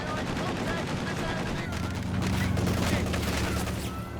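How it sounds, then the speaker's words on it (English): Gunfire in Company of Heroes 2 during a 2v2 match, a dense crackle of rifle and machine-gun shots with low rumbling battle noise throughout, heard alongside a commentator's voice. "Pops in a shot."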